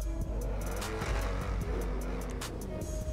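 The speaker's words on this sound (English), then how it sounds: "this car actually sounds really good" Ocelot XA21 supercar engine in GTA Online, a steady low rumble with revving rises and brief bursts throughout, loud and close with no talk over it.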